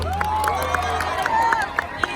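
An audience at the Bebaskan Energimu concert applauds and cheers for a performer, a steady crowd wash broken by bright whoops and whistles throughout.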